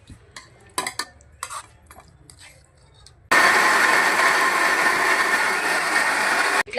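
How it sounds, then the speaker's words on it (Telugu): A kitchen mixer grinder blends fried tomatoes and cashews for hotel-style paneer butter masala, starting abruptly after clinking utensils and talk, then roaring loud and steady at close range before cutting off. "ఇట్లా మెత్తగా వచ్చే వరకు మిక్సీ పట్టుకోవాలా"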